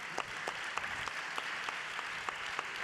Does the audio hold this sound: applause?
yes